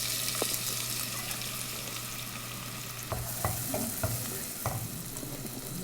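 Coconut oil, about two tablespoons, heats in a hot pan for a Kerala-style liver fry, giving a soft steady sizzle with a few faint clinks and knocks, quiet and close, with no talk.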